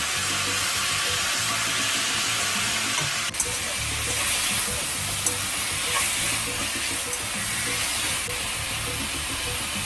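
Pork belly fries in sugar caramelized in a hot pan, giving off a steady, fairly loud sizzling hiss that lasts throughout, with a few faint clicks and knocks of a utensil.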